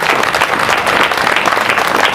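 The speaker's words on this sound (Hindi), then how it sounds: "एक बार जोरदार हाथ उठाकर तालियां बजा दीजिए" Loud, dense audience applause fills a comedy poetry show in Maharashtra, steady clapping from a large crowd with no voices over it.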